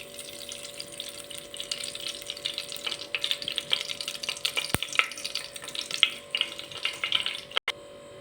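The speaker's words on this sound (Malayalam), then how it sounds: "അതിലോട്ട് നമ്മൾ ചിക്കൻ വറുത്തെടുത്ത ഓയിൽ ഒഴിച്ച് കൊടുക്കുകയാണ്." Oil left from frying chicken is poured into a heated pressure cooker, giving a continuous crackling sizzle with scattered pops and sharp clicks, fairly loud and with no talking.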